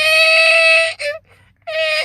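A voice imitates a rope creaking on wood with a high, drawn-out, wavering squeal, a short break, then another creaky squeal.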